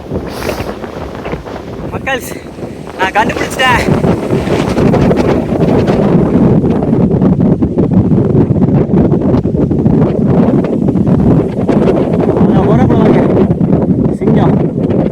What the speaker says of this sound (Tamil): காற்று இங்கேயே போட்டு கொளுத்துது.